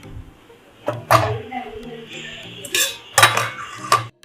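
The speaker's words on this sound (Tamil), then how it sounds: "வானலை வைங்க." A wok is set down on a stove in a home kitchen, giving several sharp metallic clanks and clatters spread across a few seconds, with a voice talking between them.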